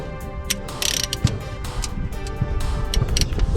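A hand ratchet clicks in quick, uneven bursts while tightening a bolt on an LB7 Duramax exhaust manifold, close and sharp against clanking tool noise.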